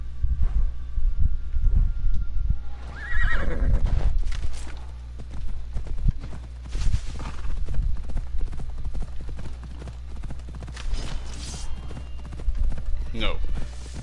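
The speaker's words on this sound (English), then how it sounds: "Horse is back now," Steady clip-clop of horse hooves plods along under wind noise, with occasional talk and a faint whinny partway through, in the video game Assassin's Creed Odyssey.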